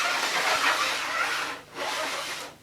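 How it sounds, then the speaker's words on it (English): Wheels of a Vax Air Revolve vacuum cleaner scrape along the floor with the power head removed, a harsh broadband rasping in two long pushes separated by a brief pause, close and loud with no voices. "you can hear a scraping noise. The wheels just scrape along."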